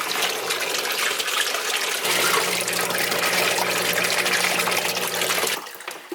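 A Sicce Ultra Zero utility pump pushes saltwater into a trash can, giving a steady, loud gush of pouring water with a low mechanical hum underneath that cuts off near the end.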